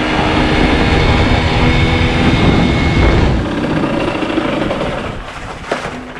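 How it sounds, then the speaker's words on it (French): A motorcycle fitted with a new carburetor drones loudly and steadily close by, then the engine note eases and fades slightly toward the end. "Là il faut vraiment écouter le moteur et attendre."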